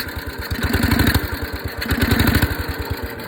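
Stock Husqvarna motorcycle engine fitted with a PZ19 carburetor, revved in two rising bursts with a throbbing exhaust pulse, close and moderately loud with no speech.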